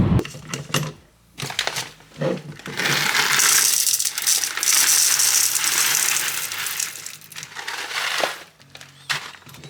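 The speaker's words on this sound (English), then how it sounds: "Need to grind a little bit more coffee." A coffee grinder grinds beans at home, a loud continuous gritty whir lasting several seconds, with rattling clatter before and after it.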